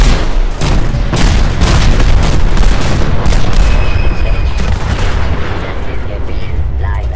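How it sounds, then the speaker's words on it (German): Loud, continuous barrage of cannon-like booms and gunfire from the video game Fallout 4, dense and rapid, with a voice speaking under the noise. "Einfach immer weiter feuern mit Kanonen"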